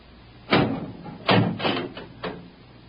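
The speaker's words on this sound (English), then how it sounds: "Open the door." Several heavy wooden thumps and clunks of an old door being handled sound in a row, close and fairly loud, in an old-time radio drama with no one speaking.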